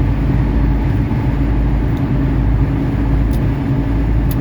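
Inside a 1979 Mercedes 300SD on the move, a loud, steady low road-and-engine drone fills the cabin evenly, with no voices over it.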